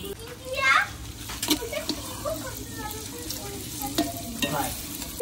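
Ginger, garlic and chili paste sizzles in a pan with fried onions at an outdoor picnic, a steady frying hiss with stirring scrapes, under children playing and people talking.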